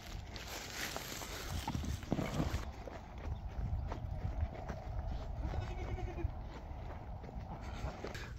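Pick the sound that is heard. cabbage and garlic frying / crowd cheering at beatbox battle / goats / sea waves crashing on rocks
goats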